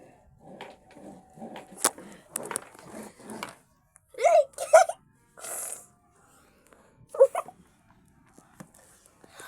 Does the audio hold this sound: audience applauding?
no